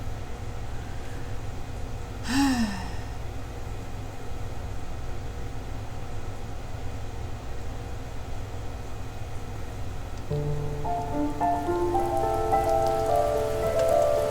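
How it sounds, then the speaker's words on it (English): Steady rain falling in the video game The First Tree, a soft, even hiss throughout. A brief chirp sounds early, and gentle musical tones join near the end, with no talk. "now it's raining"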